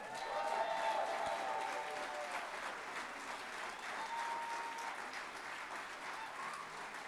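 Sustained applause from a gala audience, steady and moderately loud throughout, with faint chatter mixed in.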